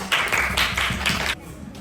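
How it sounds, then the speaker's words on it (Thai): A classroom of primary school students claps for a student group, a burst of rhythmic clapping in several quick pulses that stops abruptly, with children's voices mixed in. "ปรบมือให้กับพี่พี่กลุ่มนานาจอบนอน"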